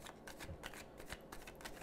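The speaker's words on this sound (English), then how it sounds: "Let me just shuffle them for just a little bit." Quiet, steady tarot card shuffling, a run of soft papery riffles and flicks repeating close to the microphone with no talking.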